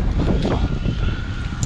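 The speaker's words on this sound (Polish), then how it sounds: "Wiatr wieje, to pewnie ty słychać." Low rumbling wind buffets the microphone throughout, a steady gusty roar with no voices.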